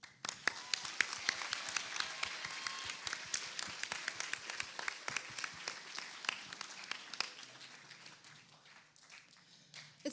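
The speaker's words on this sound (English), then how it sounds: "Clapping is definitely on order for Mr. Harbin." An audience at a model UN conference opening ceremony claps after a musical performance, sharp individual claps blending into steady applause that slowly thins and tapers off.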